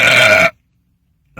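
A loud, harsh burp after drinking Mountain Dew Major Melon bursts out for about half a second, then breaks off into silence, with a faint short sound returning at the very end.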